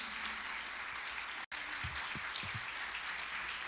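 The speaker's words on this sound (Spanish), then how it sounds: "Denle un fuerte aplauso al Señor" Church congregation applauding at an evangelical service, an even, sustained clatter of many hands, fairly distant and moderate in level, with a brief break partway through.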